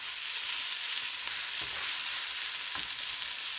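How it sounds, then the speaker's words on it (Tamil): Vegetables sautéing with chili powder for sambar, a fairly quiet steady sizzle with a few soft spatula scrapes. "இதை போட்டு நல்லா வதக்கணும்"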